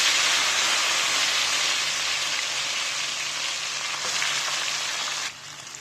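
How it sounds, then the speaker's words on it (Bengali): Cauliflower and lentils hitting hot mustard oil in a pan, a loud steady sizzle and hiss that stays strong for several seconds and then drops abruptly near the end. "তেল গরম হয়ে গিয়েছে, এখন দিয়ে দিচ্ছি।"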